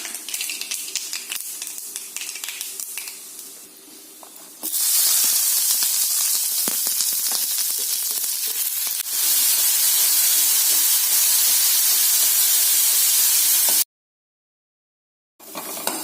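Sliced onions sauté in a hot pan, a loud continuous hiss and sizzle that jumps in intensity twice before stopping abruptly for a moment near the end.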